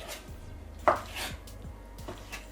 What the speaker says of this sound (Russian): Курицу я промыл, ну и сейчас нарезаю ее брусочками.